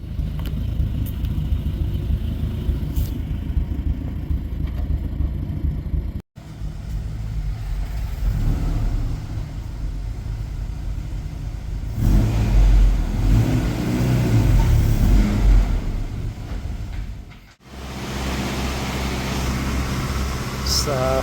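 Acura Integra running a 91 base map on dyno rollers, its mid-pitched engine droning steadily at partial throttle with brief lifts and a louder stretch of revving midway, while people talk nearby.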